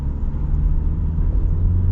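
A 2024 Honda HR-V Sport crossover in snow mode accelerates hard, giving a steady low engine rumble and road drone from inside the cabin, moderately loud with no talk.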